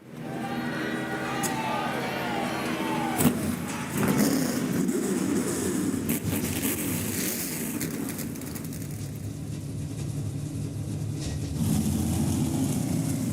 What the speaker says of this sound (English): helped start these engines, fire them up here at Salem Speedway in Salem, Indiana